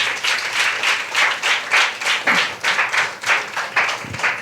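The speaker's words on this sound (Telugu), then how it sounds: "గట్టిగా ఒకసారి చప్పట్లు కొడదామమ్మా." A church congregation claps together in strong, rhythmic unison, with loud regular beats about twice a second that carry through the whole stretch without talk.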